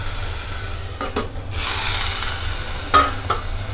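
Onion and tomato sautéing in a pan under a steady sizzle, with a few loud scraping stirs near the start and two more toward the end, close by and free of talk.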